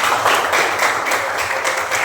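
Classroom applause from students during a religious education lesson, a dense patter of clapping lasting about two seconds, fairly loud and steady with no talk over it.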